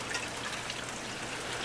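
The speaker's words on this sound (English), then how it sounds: "we still have rain coming on down, and that's supposed to carry on through into tomorrow" Steady rain falling outside during a storm, a broad, even hiss of drops with no break, moderately quiet and without voices.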